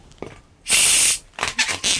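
Air hisses out of a white 260 latex modelling balloon in bursts, one long loud sharp release followed by several shorter spurts, close by with no talk.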